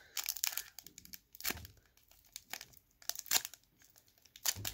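A hockey card pack wrapper is torn open and crinkled in close, quiet bursts of crackling foil and paper, several short rips and crunches separated by brief pauses.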